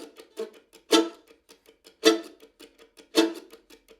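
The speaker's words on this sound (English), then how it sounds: "If we wanted to practice that with the chop right on the first beat," Mandolin rhythm with a sharp percussive chop landing on the first beat, three loud strokes roughly a second apart with lighter up-down strums between, close and alone.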